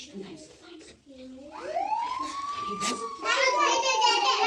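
An ambulance siren wails upward and holds a high tone, growing louder, while children chatter around it.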